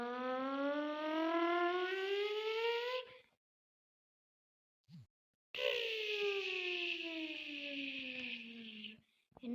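A voice imitates a vehicle driving during Roblox gameplay, making two long, loud, close engine-like drones that slowly rise in pitch, separated by a short silence.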